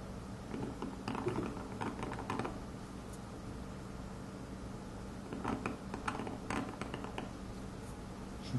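Carving knife scraping strokes into a stone name seal, soft repeated scratching and tapping in two short clusters with quiet pauses between, close and faint.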